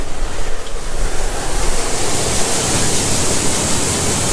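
Clean seed pours from an auger into a semi trailer, a steady loud granular hiss that builds and holds, rushing like surf with no talking.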